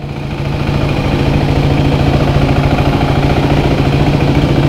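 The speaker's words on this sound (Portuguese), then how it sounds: "Vocês vão ver essa moto funcionar do esquema luxo" KTM Duke 390 motorcycle engine idling up close, a loud steady single-cylinder thrum with fast even pulses that builds in the first half second and holds.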